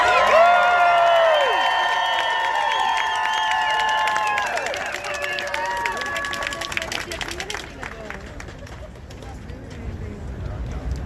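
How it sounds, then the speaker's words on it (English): An outdoor rally crowd cheers and claps, with loud whistles and shouting dominating the start before giving way to scattered clapping and crowd noise that fades toward the end. "Let's give them a round of applause."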